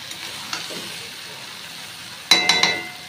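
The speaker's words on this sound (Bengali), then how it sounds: "খুব ভালো করে এটা নেড়ে চেড়ে মশলাটাকে ভালো করে মিশিয়ে নেব।" Spices being stirred into vegetable curry in a frying pan, a soft continuous sizzle with a few faint scrapes, then three sharp metallic clinks of the spoon against the pan near the end.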